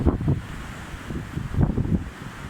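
Strong hurricane wind in Tallinn, Estonia, roars and buffets the microphone in steady low gusts, swelling louder toward the end, with no voices.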